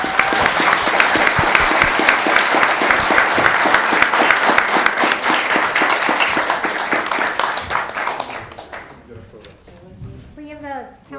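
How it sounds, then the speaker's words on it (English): Audience applause for competition medalists at a city council meeting, a dense, steady roar of many hands clapping that fades out near the end as a voice starts speaking. "A huge round of applause, please."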